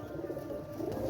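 Pigeons coo in a low, continuous murmur, close and steady, for a brief moment.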